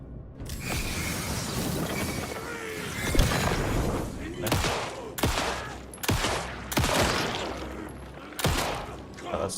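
Repeated gunshots in Alan Wake 2, sharp bursts landing irregularly about seven times over a steady game rumble and mechanical clicks, with a voice talking now and then.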